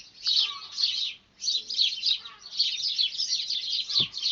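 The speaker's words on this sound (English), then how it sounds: "And it's just full of birds." Birds chirp and tweet in a dawn garden full of passion flower, roses and brambles: quick, bright, overlapping calls repeat almost without pause, with a short gap early on and a soft low thump near the end.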